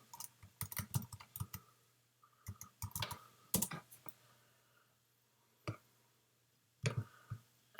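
Sharp mouse clicks on an image, in quick irregular bursts followed by a few isolated clicks, close and fairly quiet over a faint steady hum.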